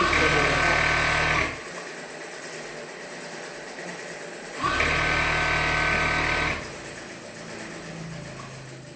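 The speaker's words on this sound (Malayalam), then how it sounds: "ഇനി സൈഡ് കൂട്ടി തയ്ക്കുക" A sewing machine stitches the side seams of a nightie in two clear runs of fast, even motor rattle, each lasting a couple of seconds, separated by a quieter pause.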